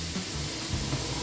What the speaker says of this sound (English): I'm gonna turn on the fan now, so pardon the noise.